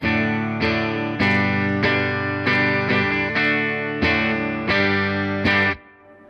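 Electric guitar on the bridge pickup through a Fender Twin Reverb Tonemaster amp with reverb: about ten strummed chords in a steady rhythm, each ringing loud and full before the next, with a short reverb tail at the end.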